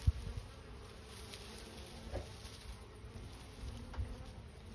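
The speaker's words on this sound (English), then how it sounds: "Oh, here's the bees." Bees buzz in a garden in late September, a continuous low hum close to the microphone with a few louder passes and light knocks, and no talk.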